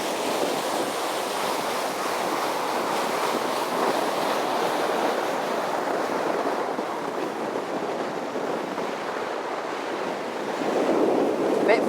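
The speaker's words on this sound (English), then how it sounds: "It's going to get a bit windy." Strong wind and rushing water roar steadily around the deck of a 2019 Sunseeker Manhattan 66 motor yacht running at speed, a loud, continuous broadband wash with wind buffeting the microphone.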